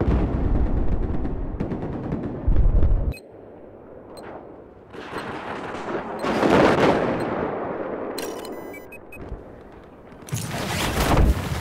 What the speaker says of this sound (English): there's an enemy machine gunner east of your location